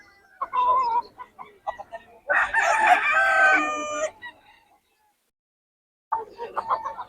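Chickens and roosters at a poultry sale in Bocaue: a loud, close rooster crow rises mid-clip, framed by scattered clucks and short calls, with a brief quiet gap before more clucking resumes.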